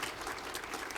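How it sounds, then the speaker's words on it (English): Audience applause at a 2017 NMCS conference session, a steady dense clapping wash filling the whole second without a break. "So yes, round of applause."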